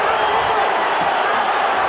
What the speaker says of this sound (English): The crowd going wild with every Chavez punch